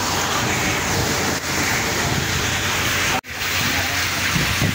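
Rain falls steadily during a fishing outing in Zamboanga City, a loud continuous hiss and patter with a brief dropout near the end.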